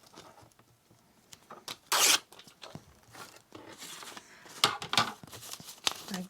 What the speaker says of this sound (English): Just going to tear this because